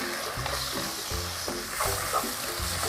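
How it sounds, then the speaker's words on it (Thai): Shiitake mushrooms stir-fried in a pan with a splash of stock added, a steady sizzle under repeated scraping stirs at a regular rhythm, close and moderately loud, with no talking. "ผัดจนเห็ดหอมสุกเลยนะคะ เราจะเติมในตัวน้ำสต๊อกลงไปหน่อยนะคะ"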